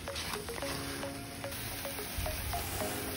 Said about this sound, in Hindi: हम जो स्टीयर फ्राइड श्रिंप किए थे उसको हम डालेंगे कढ़ाई में, उसको अच्छे से सौते करेंगे।